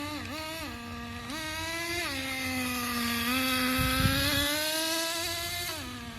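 Traxxas 4Tec RC car with a 2-speed transmission, its electric motor whining steadily and rising and falling in pitch as it revs, with small steps suggesting shifts, continuous and close for several seconds.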